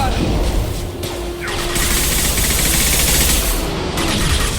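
Sustained gunfire from a firefight in the Mass Effect 2 Legendary Edition video game, dense and loud with rapid overlapping shots and blasts, while squad voices call out over the battle.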